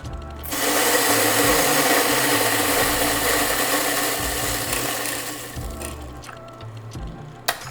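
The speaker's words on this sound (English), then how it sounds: "a Japanese grinder because the intent is for Japanese style brewing. So I have my grinder running." A Japanese-market electric coffee grinder set for Japanese-style pourover, running as a steady loud whirring grind for several seconds and then winding down, close and alone without talk.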